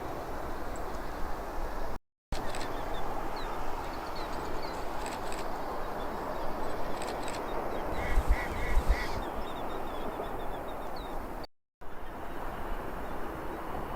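Ducks quack in short, faint calls from some distance beside a freezing river at the confluence of the Fraser and Nechako Rivers, over a steady broadband wash of flowing water.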